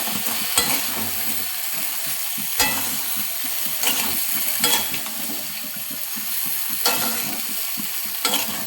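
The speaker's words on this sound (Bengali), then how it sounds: "ভালোভাবে নেড়ে নেব।" Sweet mango pickle with sugar stirred in a hot pan, giving a steady loud sizzle broken by periodic scraping strokes of the spoon every second or two.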